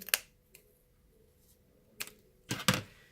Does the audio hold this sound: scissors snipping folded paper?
yes